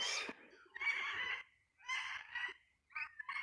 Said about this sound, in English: there's a lot of the birds are over there